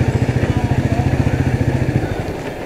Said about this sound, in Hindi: ये रॉयल एनफील्ड मीटियो 350 में राइड करने का मज़ा ही कुछ अलग है